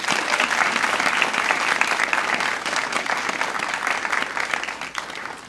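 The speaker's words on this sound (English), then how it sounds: "let's have a round of applause for all of our student researchers this evening" An evening environmental research symposium audience applauds student researchers with steady, dense clapping that holds for several seconds and then tapers slightly, close and continuous, with no talk over it.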